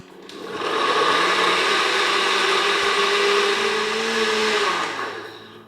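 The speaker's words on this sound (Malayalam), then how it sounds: "ഇനി മിക്സിയുടെ ജാർ അടച്ച ശേഷം ഇത് നന്നായിട്ട് ബ്ലെൻഡ് ചെയ്തെടുക്കുക" A mixer grinder blending mango whirs loudly and steadily for about four seconds, spinning up and winding down, with no voices.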